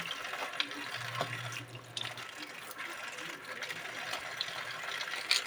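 Water runs from a tap while vegetables are washed one by one, a steady splashing stream with small clatters and bumps of handling close by.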